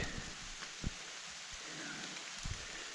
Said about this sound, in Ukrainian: А дощик то посилюється.